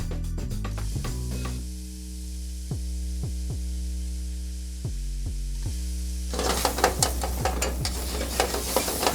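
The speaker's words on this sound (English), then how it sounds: "So now we are ready, as you can see, to deglaze the pan." Amatriciana sauce deglazing in a pan with burned-on bits, giving a steady loud sizzle with a constant hum, a few soft clicks in the middle, and a brighter, crackling burst of sizzling toward the end.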